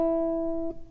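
A single guitar note plucked hybrid-style with a mix of fingertip flesh and nail, giving a rounder, fatter tone; it rings clearly and steadily alone, then is damped near the end.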